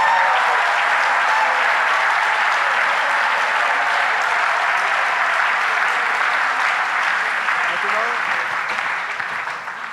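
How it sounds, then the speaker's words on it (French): A church congregation applauds during a teaching session, continuous even clapping holding for about ten seconds before tapering off, with faint voices beneath. "Applaudissez le Seigneur encore."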